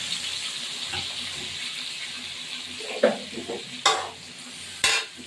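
Ingredients are tipped into sizzling fried rice and stirred, a steady hiss of frying broken by a few sharp scrapes and clatters of the spatula toward the end.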